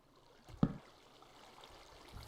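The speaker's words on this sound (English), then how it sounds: "I'm going to put the water blocks there" Water flowing from placed blocks in Minecraft makes a soft, low trickling wash, with one brief louder splash near the start and then a quiet steady stream.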